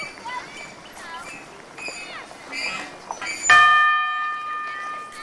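A child rings a bell at a playground, making bright metallic chimes. Several strikes come near the end with a clear, lingering ring, and voices are heard in the background.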